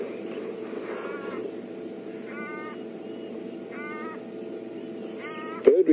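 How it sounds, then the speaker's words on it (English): A black-collared barbet calls in repeated short harmonic bursts, four spaced phrases over a steady background hum, with a brief loud knock at the end. "Bird we can hear in the background is one of the black-collared barbets."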